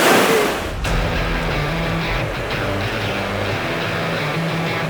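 Strong ocean waves crash and wash over a rocky coral shore in a continuous loud broadband roar, with a sharp burst of surf near the start.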